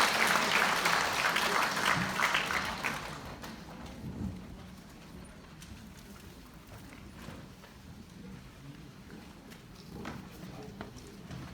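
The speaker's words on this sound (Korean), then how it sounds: "큰 박수로 맞이해주시기 바랍니다." An indoor audience at a Gyeyang-gu district talk concert in Korea applauds as the district mayor is welcomed onstage: a dense burst of clapping that is loud at first, then fades within a few seconds into quieter room noise and shuffling.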